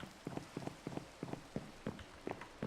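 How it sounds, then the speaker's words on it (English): Rain in the video game Minecraft, modpack Enigmatica 2 Expert, falls as faint, evenly spaced pattering bursts repeating about every third of a second, quiet and without talk. "And it's raining."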